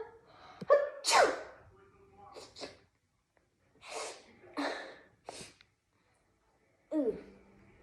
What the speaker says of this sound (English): You sneezed all over me.